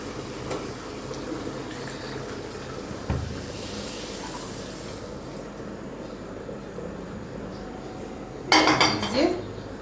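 A cooking pot of koi fish curry is lifted off the stove, with steady kitchen background noise and a sharp metallic clatter and clank of the pot near the end.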